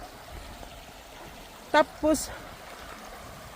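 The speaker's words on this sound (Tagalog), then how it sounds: "Yan ang river nila." A glacier-fed river flows on a rocky trail, a steady faint rushing beneath a person's brief speech.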